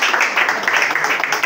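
Audience clapping together at a press conference launching a festival, a steady dense patter of applause that swells and dips slightly throughout, fairly close and filling the room.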